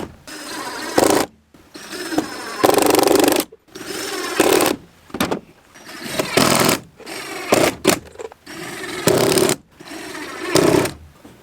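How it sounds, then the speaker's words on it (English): A power drill drives screws into a wooden beehive nuc box, several loud whirring bursts of a second or two each, separated by short pauses, close up. "Now let's throw some screws in there."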